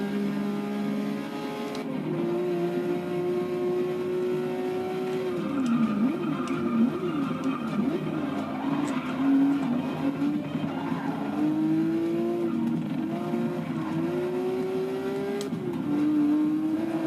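A Porsche in the racing game Forza 6 drives on, its engine droning and shifting pitch through revs and gear changes, with occasional tire squeal, loud and steady with no talking.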